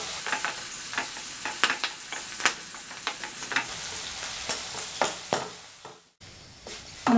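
Kanthari chilies sautéing over medium flame crackle and sputter in sharp irregular pops over a low sizzle, with spatula stirring, close by and no talk.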